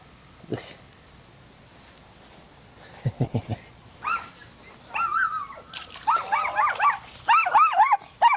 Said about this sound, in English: Next door's dog.